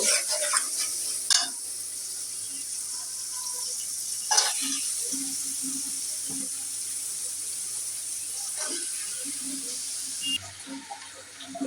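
Radish greens dropped into a pan of onion, green chilli and salt, with steady frying sizzle and occasional stirring scrapes and clatters throughout.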